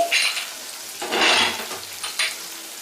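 Tomato with spices frying in a pan over a low gas flame, giving a steady close sizzle with bursts of louder hissing as the food is stirred, three swells across the short stretch.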